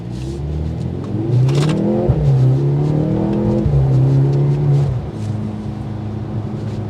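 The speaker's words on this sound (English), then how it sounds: "you do get a little bit of those pops out of the exhaust note" A car engine revs up and accelerates loudly nearby, its tone climbing through gears, with a few sharp crackles and pops from the exhaust.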